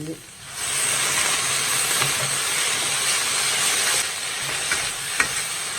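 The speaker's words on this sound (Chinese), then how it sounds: "把梅干菜给它煸香以后，我们再加上少量的清水，" Preserved mustard greens stir-fried in a wok with a little water just added, giving a steady loud sizzle and steamy hiss with occasional scrapes and clinks of the spatula, no voices.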